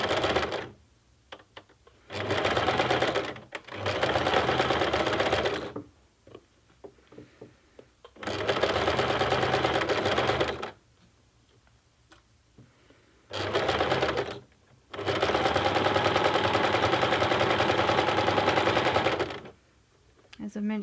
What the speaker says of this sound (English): I'm going to sew down the folded edge.